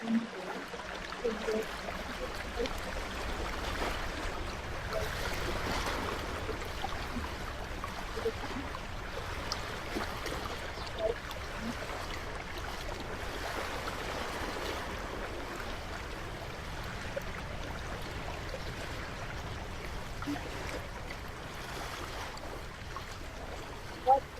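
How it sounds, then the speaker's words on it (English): Soft, continuous gurgle and rush of flowing river water from the film Réquiem NN, low and even throughout with faint splashes and no voices. "the soft gurgle of flowing water breaks the silence of the inhabitants"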